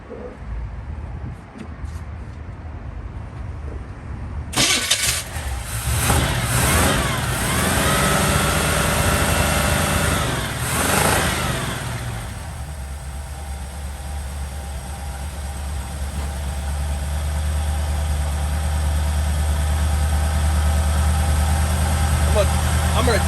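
Engine of a 1964 Chevy C10 pickup, off the road for seven years, cranks and catches around the five-second mark, then runs and settles into a steady, loud idle with a low rumble for the rest.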